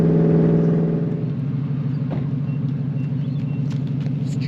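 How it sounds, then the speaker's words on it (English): A loud aftermarket exhaust on a Nissan Patrol Y62 SUV roars as it accelerates hard from 0 to 100 in a drive-by, starting with a deep drone that thins into a rough, rising rush of engine noise. "Stupidly loud exhaust, 0 to 100."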